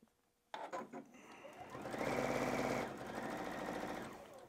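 A sewing machine stitching binding onto a quilt, starting after a few clicks and running in a fast, steady mechanical chatter that builds and holds, close and loud without talk.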